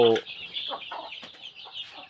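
Thai game fowl, a Burmese jungle-fowl type, giving soft scattered clucks over a steady high background of insects or birds, with a brief louder call at the start.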